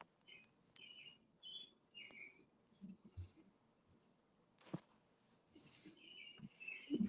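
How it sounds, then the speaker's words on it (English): Several short bird chirps and tweets scattered through a quiet outdoor background, faint and somewhat distant, with a few soft thumps and rustles in between. "I hear them birds, boy."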